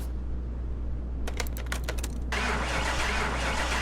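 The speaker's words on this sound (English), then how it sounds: "Oh, we're cranking." A 2016 Chevrolet Camaro, abandoned and abused, cranks over after a low idle hum: a quick burst of clattering starter pulses, then a broad rough roar as the engine catches and keeps running.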